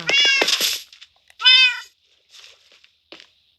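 A small kitten in Minecraft meows several times, two loud bright cries followed by softer, shorter mews with quiet gaps between them.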